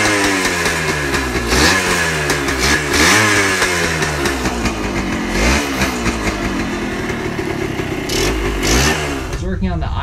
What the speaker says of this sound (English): put the carb back together, and now it fires right up